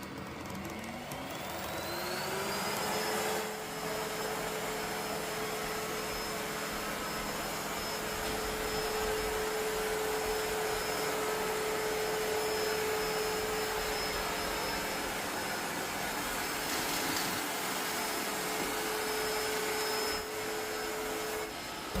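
An Ecovacs T10 OMNI robot vacuum spins up with a rising whine, then runs a steady loud suction drone with a high tonal hum while cleaning around furniture, close and continuous.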